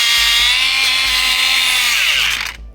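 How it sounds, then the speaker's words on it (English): An angle grinder screams steadily against steel as worn lips are ground off parts of a John Deere 1590 no-till grain drill, loud and close for nearly three seconds before spinning down abruptly. "So I'm gonna take a grinder and grind these lips off"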